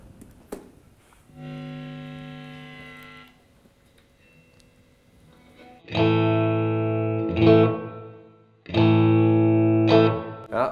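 Electric guitar played through an amplifier with the reverb turned fully up: sustained distorted chords ring out in separate bursts, each trailing into a long, washy echo tail, with gaps of quiet between them.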